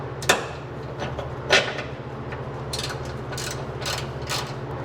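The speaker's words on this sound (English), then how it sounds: "So now I'm going to grab my ratchet and put that on." Close, loud ratchet clicking as a bolt is tightened on a Ford Raptor rear bumpstop, a rapid steady run of pawl clicks broken by a couple of sharper knocks near the start, with no talking.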